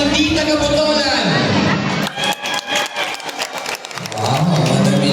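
Christmas party audience in Botolan breaking into clapping and cheers, a burst of applause and crowd noise rising over a host's amplified voice, which speaks before and after.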